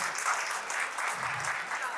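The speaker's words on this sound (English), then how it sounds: "A huge round of applause for them" Audience applause for the founders of the orchestra at a GSB Sabha musical show in Navi Mumbai, a steady dense wash of clapping heard at a distance, with some voices mixed in.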